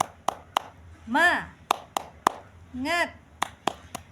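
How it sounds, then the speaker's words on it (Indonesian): Children and a teacher do a rhythmic tepuk semangat spirit clap in a lesson, sharp hand claps in a patterned beat with two short bursts of chanting voices between the clap groups. "Ayo tepuk semangat dulu yuk, biar semangat, biar tambah semangat"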